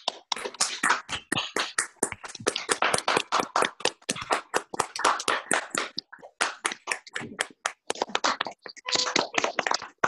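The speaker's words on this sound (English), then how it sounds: "these five beautiful women need a huge round of applause right now" Online audience unmuting to applaud five women at a healing celebration, a dense stretch of overlapping claps and taps filling the whole span, loud and continuous with slight gaps near the end.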